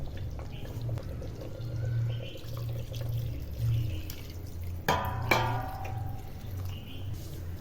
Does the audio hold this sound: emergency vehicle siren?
no